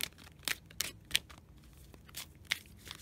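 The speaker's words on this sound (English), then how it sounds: "Let's shuffle and pull one." Close paper-like riffling and snapping, a few quick bursts of oracle cards being shuffled in an otherwise quiet room.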